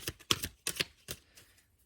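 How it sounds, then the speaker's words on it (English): Oracle cards get shuffled by hand in a quick run of four or five soft riffling flicks, close and quiet, tapering off toward the end with no speech. "I'm going to give it a good shuffle."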